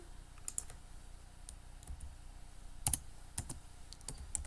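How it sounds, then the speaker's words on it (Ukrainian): Keys pressed on a computer keyboard, with sparse sharp clicks spread over a few seconds and a firmer pair of taps in the middle, all close and fairly quiet with no talking. "Enter нажимаємо"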